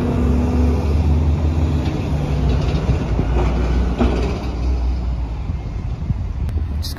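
An Enviro 400 bus and then an Enviro 300 pass by on a street in Kirkcaldy, a loud, steady engine and road rumble that fills the clip throughout without fading.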